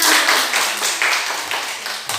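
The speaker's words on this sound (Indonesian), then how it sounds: "Nah, ya tepuk tangan." Applause from a group, a steady patter of hand claps lasting a couple of seconds, fairly close and moderately loud.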